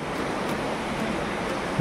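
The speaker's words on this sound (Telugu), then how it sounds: "చాలా పైనుంచి పడుతుందండి వాటర్" The Dokrichanchara waterfall in Odisha, water falling from a great height, roars as a steady, dense, broadband rush, loud and continuous with no voices over it.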